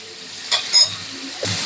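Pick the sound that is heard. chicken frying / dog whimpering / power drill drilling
chicken frying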